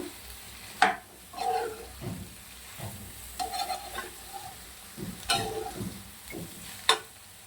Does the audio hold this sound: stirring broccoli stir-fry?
yes